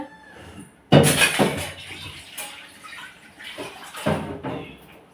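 Water is poured over rice in a container to wash it, heard as two distinct splashing pours, the first sudden and loud, the second softer near the end, with quieter trickling in between.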